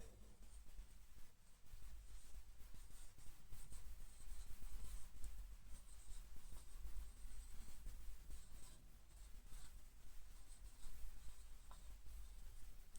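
Pen writing on paper, a steady close scratching that runs without a break for about thirteen seconds, fairly quiet, with no voices.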